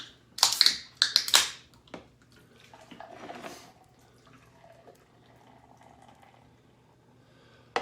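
A bottle of Clausthaler Dry Hopped non-alcoholic beer is opened close up: a few sharp cracks and hisses, then softer fizzing and pouring fade into near quiet.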